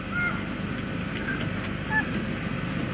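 Geese honk from a trailer at a historic motorcycle club gathering, a few short nasal calls rising over a steady low rumble of engine or background noise, fairly distant and scattered.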